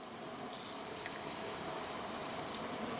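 Water running steadily from the kitchen sink faucet of a Jayco Greyhawk XL 32U motorhome, fed by the onboard pump, a constant close hissing splash with no pauses.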